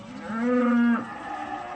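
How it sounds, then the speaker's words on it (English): Cows on a farm moo on a fall morning as they head out to pasture, one clear, close, drawn-out low moo followed by fainter lowing in the background. "Cows are going out to the pasture this morning"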